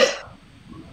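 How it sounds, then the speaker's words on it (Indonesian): A single short, harsh cough from a man, close and abrupt, cutting off quickly into near silence. "Batuk dia udah."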